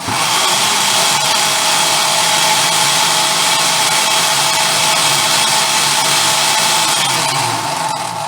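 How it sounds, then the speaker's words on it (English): A liquidizer blends vegan rice pudding into a mush, a loud, steady whirring roar that holds constant for the whole stretch with no talking. "a proper liquidizer is really something you need to invest in if you're going to do a lot of vegan baking and cooking"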